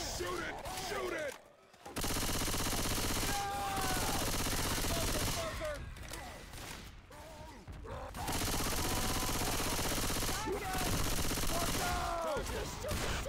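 Sustained automatic gunfire from players shooting a zombie in Left 4 Dead 2, long dense bursts of rapid shots with brief pauses between, loud and continuous, with excited voices shouting over it.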